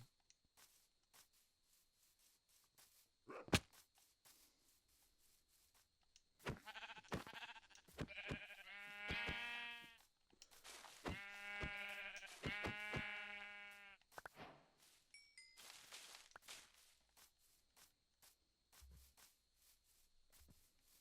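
Several Minecraft sheep bleats, loud and close, in bursts with short pauses, over a faint steady electronic hum.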